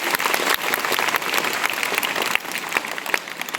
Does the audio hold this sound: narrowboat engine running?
no